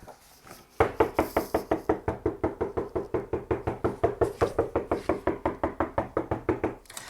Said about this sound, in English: knock, knock, knock, knock, knock, knock, knock, knock, knock, knock, knock, knock, knock. Who could that be?